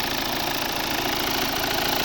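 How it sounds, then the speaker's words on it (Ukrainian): A 2016 Volvo V60 facelift with a 2.0 D4 diesel engine, 190 hp and automatic gearbox, idling with a steady, dense, close clatter and hum that stays constant throughout, with no talking. "Ось робота двигуна."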